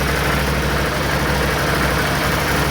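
A 2018 Can-Am off-road vehicle engine idles at close range, a loud, steady rumble that holds without change throughout.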